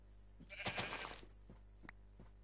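A sheep in the Minecraft video game bleats once, quietly and clearly, followed by a few faint game sounds, with no one talking.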